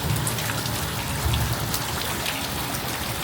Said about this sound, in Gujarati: વરસાદ જો